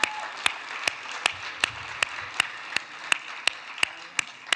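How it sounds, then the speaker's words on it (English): An audience gives applause at an afternoon conference session, with one nearby pair of hands clapping in a slow, steady beat over a soft wash of crowd clapping. "I think they deserve one more round of applause,"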